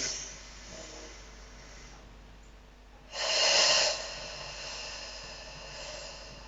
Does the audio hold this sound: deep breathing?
yes